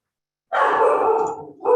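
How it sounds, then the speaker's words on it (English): A dog barking in the background in a home during a live trading session: one sustained, fairly loud bark-like burst after silence, followed by a short second yelp, with no talking over it. "my dog keeps barking in the background"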